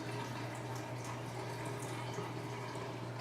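Soaked split peas are drained of their soaking water in a kitchen, a steady close pouring rush of water with a low hum beneath, continuous and without talk.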